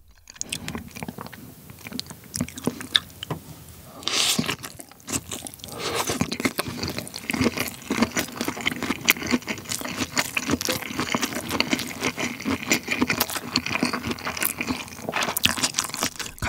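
Loud, close crunching and chewing of large soy sauce marinated shrimp (ganjang saeujang), with wet bites and crackling shell sounds repeating steadily throughout and no talking.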